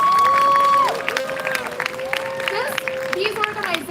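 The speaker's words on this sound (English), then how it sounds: "Let's give a round of applause to the organizations that organized this event here tonight." A crowd at a Justice For Asian Women rally in Houston breaks into steady applause and cheering, with sustained whistle-like tones and scattered shouts running over the dense clapping.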